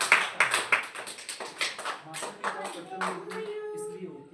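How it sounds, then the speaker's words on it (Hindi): A small group of children claps at a Mother's Day school event, with a few quick, uneven hand claps near the start, then scattered lighter claps and background voices. "तालियां बजाओ"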